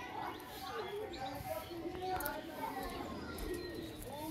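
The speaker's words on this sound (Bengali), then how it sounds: "তো এই যে পায়রা" Soft, low pigeon coos repeat among faint background murmur and outdoor noise, the cooing fairly close but not loud.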